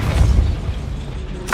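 A Depulso spell cast inside a goblin mine in the video game Hogwarts Legacy gives a short, heavy booming thud with a rumbling low body, fading briefly before a small crackle at the end.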